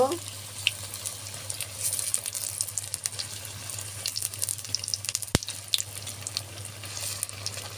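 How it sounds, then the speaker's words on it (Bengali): Lentil chicken chops deep-frying in hot oil in a pan until reddish brown, a moderate continuous sizzle and bubbling with a steady low hum beneath, plus one sharp clack of a utensil, no voices. "আমি কড়া করে লাল লাল করে ভেজে নিব।"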